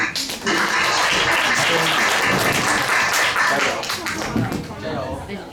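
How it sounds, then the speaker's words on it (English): An audience gives a round of applause for a student group at a high school bilingual class video exchange with India; brisk, busy clapping runs throughout, with voices audible underneath and a dip near the end. "Let's give them another round of applause, shall we?"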